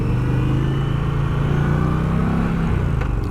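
An Indian Pursuit motorcycle on a demo ride, its engine droning steadily and loudly up close with a gradual rise in pitch as it accelerates, wind and road noise blended in, no talking.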